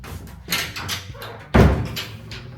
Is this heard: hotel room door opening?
yes